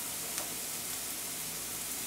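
Pressed garlic sautéing in a pan over high heat, a soft continuous sizzle with a faint hiss and a light stir or tap, steady and quiet throughout with no talk.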